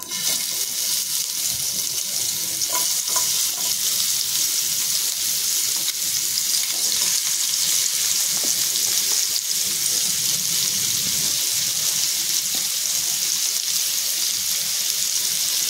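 Spice-coated bitter gourd (karela) slices frying in hot oil on medium heat, a steady loud hiss and sizzle with occasional crackles and stirring, no talk.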